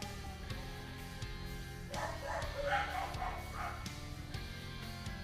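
A pet dog at a family home gives a few short yips and whimpering barks, clustered mid-way, close by over a steady low hum, with no talking.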